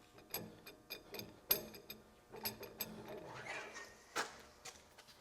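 A heavy-duty axial feed box sliding onto a Bore Repair Systems BRS6 boring bar bore welder bar, with close, quiet metallic clicks, ratcheting ticks and scraping knocks in an irregular sequence.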